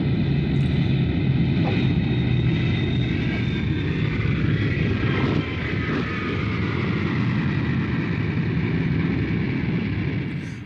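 An airliner cabin on the flight from Phnom Penh to Siem Reap fills with a steady, loud engine drone and airflow roar that holds constant throughout, with no voices.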